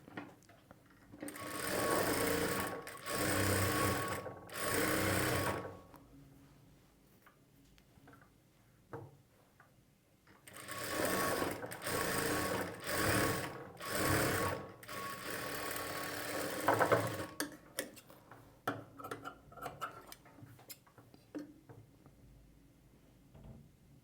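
A sewing machine stitches along a single layer of blouse fabric in several sustained bursts of rapid mechanical clatter, separated by quiet pauses with faint ticks and handling noises.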